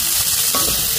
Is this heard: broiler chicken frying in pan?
yes